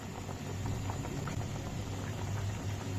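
Banana and shrimp curry simmering in a pot, a soft continuous bubbling and patter at low level, steady and close with no talking.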